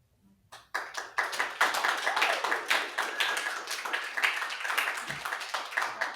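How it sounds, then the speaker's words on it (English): A crowd applauding steadily, dense overlapping claps starting abruptly after a brief quiet moment and continuing at an even, lively level. "Clapping, it's interesting."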